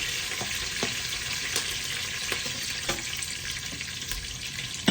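Dried red chillies fry in a pan during tomato rice cooking, a soft continuous sizzle with faint crackles, steady and moderately quiet, with no talking.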